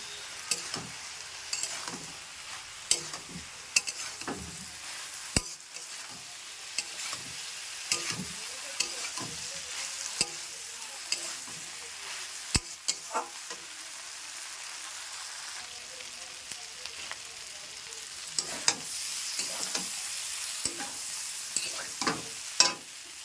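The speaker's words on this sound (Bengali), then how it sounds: "আমি আলু ফুলকপি আর সোয়াবিন দিয়ে কিন্তু সুন্দর করে কষিয়ে নেবো" Potato, cauliflower and soybean stir-fry in spiced oil under a constant rain-like sizzle, punctuated by repeated spatula scrapes and sharp knocks against the pan throughout.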